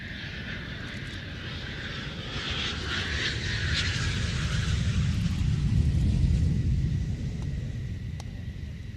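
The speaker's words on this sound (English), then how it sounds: "So here it comes into land right now, that German Eurofighter." German Eurofighter jet coming in to land at an airshow, a distant deep engine roar swelling and rumbling, peaking mid-way then easing slightly.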